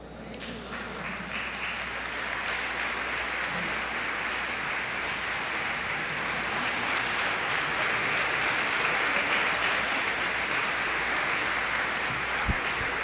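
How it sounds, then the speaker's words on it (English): Audience at a Nation of Islam gathering gives long, sustained applause, a dense rain-like texture of many hands that stays strong and steady for over ten seconds. "let's give her another warm round of applause"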